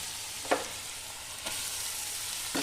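Chopped garlic and onion fry in butter for a chicken dish, giving a steady close sizzle with three brief stirring scrapes spaced about a second apart. No one speaks.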